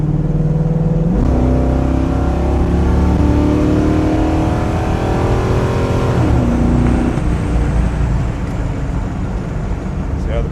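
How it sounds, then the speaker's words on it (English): A Ford Falcon wagon's engine running after valve and carburetor readjustment, a loud, close, steady idle with rev changes as the pitch rises and falls, humming continuously with no talk. "Readjusted the valves, reset the carburetor on it, and it's running a whole lot cleaner and stuff."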